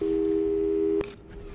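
A steady electronic phone tone drones after a hang-up in the Portal 2 video game, holding for about a second before cutting off abruptly into quiet.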